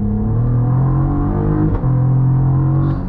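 A 2024 Cadillac CT4-V Blackwing, around 475 horsepower, launches hard from inside the cabin. Its engine drones loud and steady as revs climb, with a brief dip like a gear change midway, and no talk.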